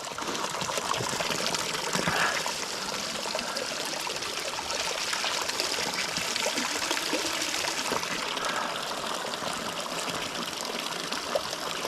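A mountain brook in the Carpathians babbles and trickles nearby, a continuous even rush of water over stones with no voices.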